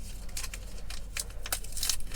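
Plastic packaging torn open by hand, a series of crinkling, ripping bursts close up, irregular and fairly quiet, with no talking.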